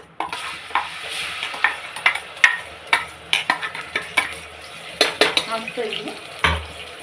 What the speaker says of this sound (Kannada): ಎಣ್ಣೆ ಕಾದಿದ ಮೇಲೆ ಇದಕ್ಕೆ ಶುಂಠಿ ಬೆಳ್ಳುಳ್ಳಿ ಪೇಸ್ಟ್ ಹಾಕ್ತಾಯಿದ್ದೀನಿ.